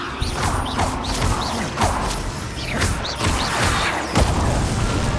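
Spellcasting in the Hogwarts Legacy video game, with the Levioso levitation charm thrown amid combat: repeated whooshing magical bursts, creaks and heavy booms in a busy, loud game mix, with no talk over it.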